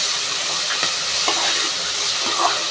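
Tomato and onion masala with ginger garlic paste, salt and turmeric fries in a pan for samba rava biryani, a steady loud sizzle broken by a few soft scraping stirs.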